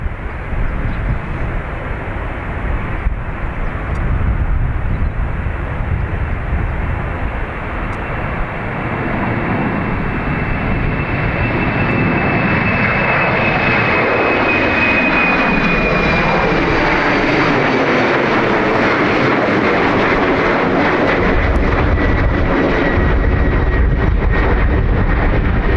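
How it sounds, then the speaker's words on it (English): A Sun Express Boeing 737 takes off from Dublin Airport, its jet engines making a loud, sustained roar that swells and shifts in pitch, with a rising whine running through the long, continuous rumble. "behind the departing Sun Express 737"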